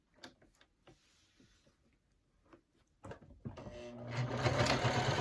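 A Janome domestic sewing machine stitches a Boronia Bowler Bag, starting with a few soft clicks and handling noises before a steady, loud mechanical run builds and continues to the end.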